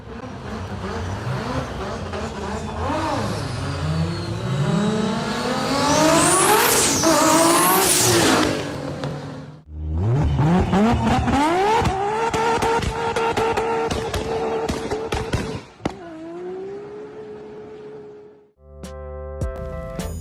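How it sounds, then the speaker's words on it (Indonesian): Nissan GT-R R34 engine revs hard through rising and falling gear sweeps, then idles and blips, loud and close, with no talk. "Kemudian kalau Nissan GT-R R34 bisa ngeluarin suara kayak gini nih."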